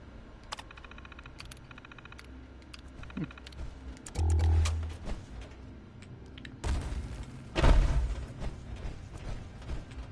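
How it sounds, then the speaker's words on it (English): Clanking, whirring mechanical servo sounds of power armor in the Fallout wasteland video game, with metallic clicks and ratcheting bursts and a heavy louder thump-and-grind passage in the middle and near the end. "That's the sound of the power armor."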